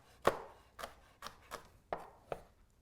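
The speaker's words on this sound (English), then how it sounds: "Roughly chop" Knife chopping chilies and other romesco ingredients on a board, six distinct, fairly evenly spaced chops, close and crisp, with no talking.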